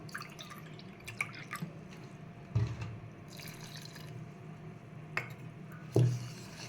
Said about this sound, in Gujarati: હવે આપણે પાણી લઈશું।